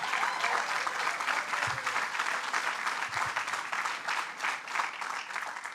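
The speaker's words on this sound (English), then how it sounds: "Let's give him a round of applause." Sustained audience applause in a hall for a bishop at a political campaign stop in Albany, steady and dense throughout, with no talk over it.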